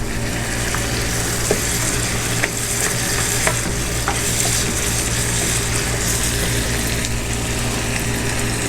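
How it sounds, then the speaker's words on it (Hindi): Mutton biryani ingredients fry in a pan with a steady, close sizzle and a few stirring clicks, continuous throughout with no talk. "और इसको अच्छे से फ्राई करेंगे"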